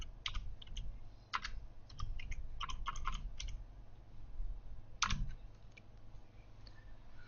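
Someone types a word on a computer keyboard, a quiet burst of quick, uneven key clicks, then a pause and a single firmer keystroke.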